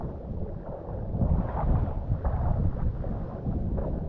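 Wind sweeps across a Black Sea beach at Dzhemete near Anapa, a steady low rumbling buffet of gusts against the microphone that swells and eases without any other clear sounds.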